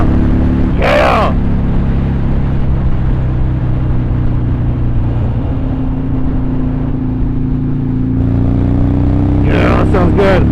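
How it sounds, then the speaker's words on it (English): A motorcycle engine drones steadily and close throughout a ride after time in storage, a loud continuous rumble with short bursts of wind or rustle at the start and end. "Bike's running good."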